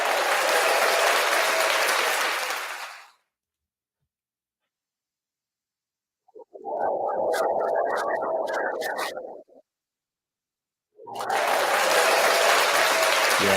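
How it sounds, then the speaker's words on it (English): Three separate bursts of applause, each dense and steady, with a few seconds of silence between them and a handful of sharp clicks around the second burst. "You deserve a round of applause."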